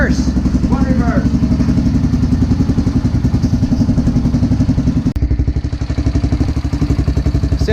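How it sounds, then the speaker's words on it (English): Honda 400ex ATV engine running close by with a loud, rhythmic, chugging clatter; a clunk partway through marks the shift into reverse, and the engine keeps running afterward. "Dan, why don't you put it in reverse?"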